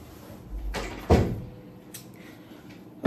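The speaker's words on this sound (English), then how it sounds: "Let me shut the door." A door is shut indoors at home, giving a muffled thump and rattle around the middle, followed by softer knocks and a second bump near the end.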